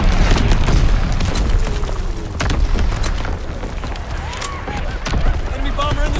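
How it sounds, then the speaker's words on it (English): Enemy artillery shelling in a Call of Duty WWII match, a dense, continuous rumble of booms and distant blasts with scattered gunfire cracks, loud and unrelenting, with game voices calling out over it. "Incoming enemy artillery!"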